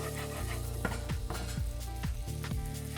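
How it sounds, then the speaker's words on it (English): Onions and garlic sweating in a pan with salt give a steady, close sizzle with scattered crackles, over a low tonal background that sounds like music, with no talking. "We're going to try to sweat the onions and the garlic down for about 5 or 6 minutes."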